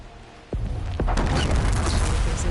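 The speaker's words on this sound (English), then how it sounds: "Time to drop that bomb." A bomb dropped from the air in Horizon Forbidden West hits the ground and erupts into a heavy, rolling explosion, with a sharp impact followed by a second burst and a sustained low rumble that fills the rest of the moment.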